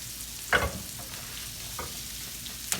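Onions and apples cook in a pan for a pork chop stuffing, a soft steady sizzle with a sharp utensil clack near the start and a couple of lighter scrapes, close and without talk.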